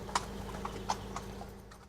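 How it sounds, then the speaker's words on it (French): Horses' hooves clip-clop on a street in Chantilly, a run of crisp, moderately near knocks at an uneven walking pace over a low steady hum. "On va croiser des chevaux, là, donc ils ont priorité hein, dans Chantilly"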